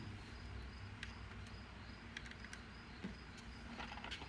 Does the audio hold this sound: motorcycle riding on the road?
no